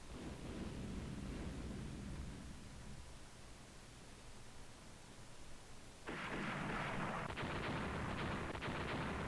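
Battleship gunfire from the naval video game Steam and Iron, with Bayern class and Kaiser class battleships firing: a low rumbling barrage that erupts into a loud, sustained crackling burst of shots partway through, with no speech.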